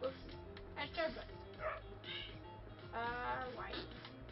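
A small dog barks and yips in short bursts in the video game Save Your Nuts, mixed with game sounds, while people talk over it.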